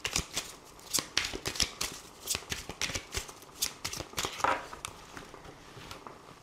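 Oracle cards are shuffled close by in quick, rhythmic riffles and flicks, a papery slapping that repeats evenly for several seconds without speech.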